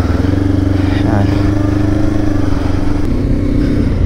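A motorcycle with a rear top box idles close by at Subic Airport, a loud, steady, rumbling engine note running throughout.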